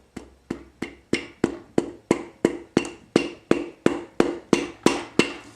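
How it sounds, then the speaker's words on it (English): Rubber end of a hammer tapping on engine connecting rod bolts of a Nissan SR20DET during teardown, about fifteen evenly spaced dull knocks in a steady rhythm, close and fairly quiet. "take the rubber end of the hammer and tap it down on the rod bolts"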